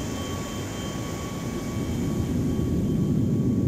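A video game airplane flies away with a steady jet roar that swells slightly louder toward the end, with no voices.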